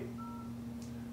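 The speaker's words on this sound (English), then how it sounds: "Now I'll try another example. We'll dial #250," A telephone keypad sounds DTMF dialing tones for #250, with short electronic beeps over a constant low hum; the tones are faint and brief.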